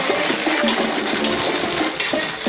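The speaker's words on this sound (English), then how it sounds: "Water into this now." Water poured into a pot of chicken feet stew on the stove, a steady loud rush of running liquid lasting a couple of seconds with no one speaking.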